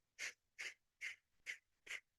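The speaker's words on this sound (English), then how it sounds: "breath of fire." Breath of fire in kundalini yoga: five sharp, forceful breaths pushed out through the nose at an even, quick rhythm, close and clear with short silences between them.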